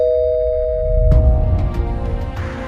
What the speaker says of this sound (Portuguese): a campainha tocou.